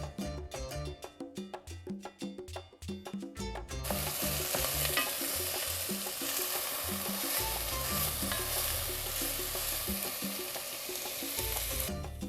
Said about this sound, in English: I'm adding some sustainable palm oil,